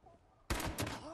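Shotgun fire in the video game Fallout 76: after a quiet start, one sudden heavy blast followed by a second boom and a ringing tail, loud and close.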